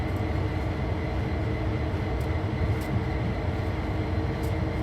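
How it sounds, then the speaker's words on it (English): Long container freight train rolling past in a train video game, a dense continuous low rumble and rail roar that stays loud and steady throughout with no talk. "That is one of the longer trains also."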